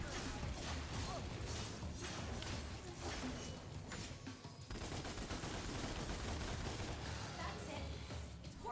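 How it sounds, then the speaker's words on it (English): Rapid bursts of gunfire from the Devil May Cry reboot action game ring out continuously, dense and loud, blended with thick game music and combat effects throughout. "Now use your gun! Shoot him down!"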